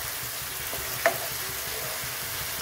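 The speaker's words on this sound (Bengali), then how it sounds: "এবার আগে থেকে কেটে রাখা বেগুন আর আলুটা আমরা এখানে দিয়ে দেব এবং তারপরে ভালোভাবে নেড়ে নেব।" Cut eggplant and potato fry in a pan with a soft, steady sizzle, and a single brief scrape of stirring cuts through midway.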